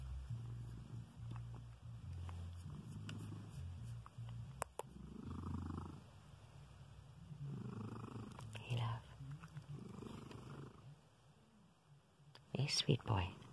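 A cat purrs steadily and close while being petted, a soft continuous rumble under affectionate talking, with a few clicks and rustles near the end.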